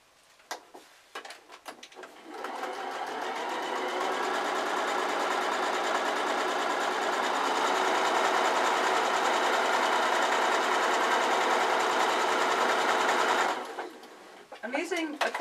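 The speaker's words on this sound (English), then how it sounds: "I'm going to sew right sides together the two pieces" Sewing machine running steadily for about eleven seconds, stitching two pieces of pocket fabric right sides together with a quarter-inch seam for an iPad case. A few short starts and stops are heard at the beginning and end.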